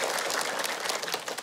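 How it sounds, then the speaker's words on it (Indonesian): A studio audience of women at a religious talk show claps together, dense rapid applause filling the short moment without any talk. "Oke, tepuk tangannya mana Ibu?"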